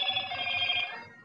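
A Motorola G30 smartphone plays its startup sound, a bright ringing electronic tone that rings steadily alone and then fades toward the end.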